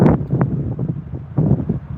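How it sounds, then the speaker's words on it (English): Gusty mountain wind buffeting the microphone, low rumbling bursts that swell and fade irregularly, with no voices. "Cody, it's the wind gust here in the mountains will come and go"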